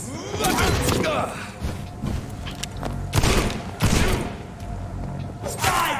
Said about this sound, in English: Oh shit! I forgot I had my shotgun equipped.